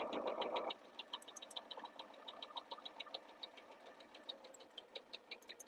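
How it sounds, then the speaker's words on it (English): A sewing machine runs a quarter-inch seam without stopping, its rapid, steady stitching pulses repeating evenly and close by, opening under a brief louder burst before settling into a continuous mechanical patter. "I'm just going to sew down the seam"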